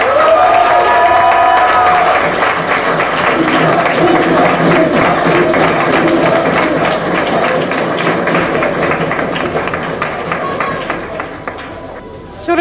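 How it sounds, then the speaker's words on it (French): Audience at a 2021 student eloquence contest awards ceremony applauds with sustained clapping and cheering from a crowd, loud and steady throughout before fading near the end. "j'appelle à applaudir, tonnerre d'applaudissements, pour Charles de Gaulle, Lucas Desgardins."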